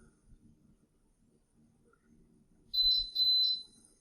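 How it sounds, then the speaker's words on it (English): A modified smart pressure cooker gives two short, bright electronic beeps close together, clear over a faint, quiet room. "you're going to hear a couple beeps, and that'll be our very clear indication that this has been modified"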